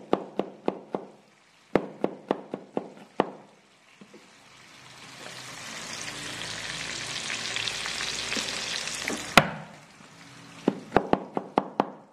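Garlic and smashed shallots sizzling in a pan for nasi goreng terasi: a soft, continuous frying hiss swells in the middle, framed by sharp spoon knocks and clatters before and after.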